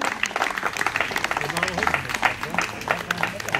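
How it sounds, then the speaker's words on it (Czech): Audience applause at an equestrian event, a dense patter of clapping running steadily throughout while an announcer talks over it. "a odměníme tyto nejvyšší výkony potleskem"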